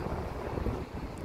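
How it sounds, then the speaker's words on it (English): Wind gusting across a seaside pier in Deal, Kent, a steady low rumble of buffeting on the microphone, loud and continuous with no voices. "It is a bit windy."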